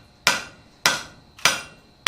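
Blacksmith's hammer striking hot metal while forging: three sharp, ringing blows spaced evenly about half a second apart, close and loud, each decaying quickly.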